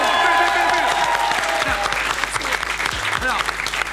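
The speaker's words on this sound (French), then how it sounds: "est-ce qu'on peut applaudir David, s'il vous plaît?" A crowd applauds steadily, dense clapping close and continuous for the whole few seconds.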